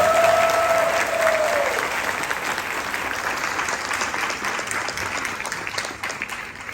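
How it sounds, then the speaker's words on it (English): A room full of people gives a sustained round of applause at a community gathering, the clapping dense and even from start to finish at moderate volume, with a brief whistle-like tone at the start. "So I think once again they deserve a huge round of applause."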